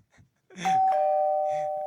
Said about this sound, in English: if you could have a doorbell sound on there right now, do it